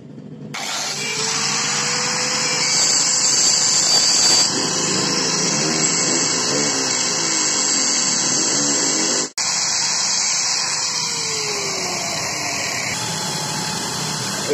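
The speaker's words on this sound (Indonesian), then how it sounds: "Oke, kita langsung gerenda dulu ya." An angle grinder grinding down a motorcycle chain link, a loud, high-pitched whine that spools up, holds steady with shifting pitch as it bites into the metal, briefly cuts out, then resumes, close and without talk.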